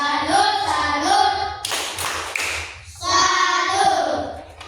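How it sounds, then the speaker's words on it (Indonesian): Rhythmic 'tepuk salut' salute clapping for the number 2 performer, a burst of claps between stretches of chanted group voices. "kita kasih tepuk salut untuk yang nomor 2"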